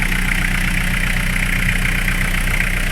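A Mitsubishi Pajero engine idles steadily nearby with the radiator fan on, a constant mechanical hum with a higher whirring tone on top, unbroken and fairly loud.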